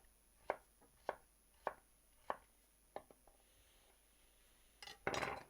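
A knife chops a washed cucumber into small chunks on a board: about seven sharp, evenly spaced knocks, close and fairly quiet, followed by a brief burst of scraping or rustling at the end.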